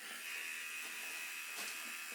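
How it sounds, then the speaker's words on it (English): Electric clipper blades buzz steadily at close range, a constant thin whine with no pauses, heard on their own for a couple of seconds while a puppy is desensitized to the noise. "we wanted to desensitize them to the sound of the clipper blades"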